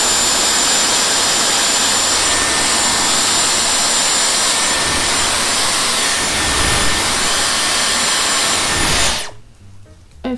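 A Dyson Airwrap hair styler blows hard at the roots of curly hair, a loud, steady airy whoosh with a high whine that runs continuously for about nine seconds before cutting off abruptly.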